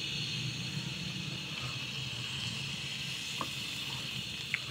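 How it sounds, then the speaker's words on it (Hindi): Oil heating in a pan for marinated chicken gives a faint, steady sizzle and hiss, even and unbroken, with a couple of tiny clicks. "ऑयल 1 से 2 चम्मच के करीब डाल लेना है"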